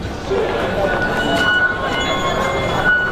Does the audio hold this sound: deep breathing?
no